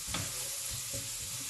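Onions with paprika sizzling in a pan for shakshuka, a soft steady frying hiss with a few light knocks of a utensil, brief and close.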